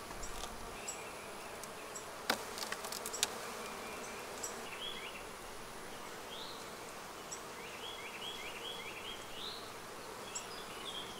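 Honeybees and drones hum and buzz steadily in an open hive, heard close and soft throughout. A few sharp clicks and rustles from the frames come through early on.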